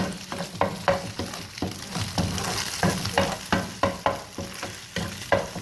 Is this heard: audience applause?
no